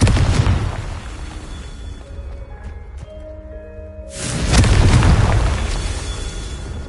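Confringo fire spell blasts in Hogwarts Legacy: a loud booming explosion at the start, a quieter stretch with a few game tones, then a second heavy blast near the middle that rumbles on to the end.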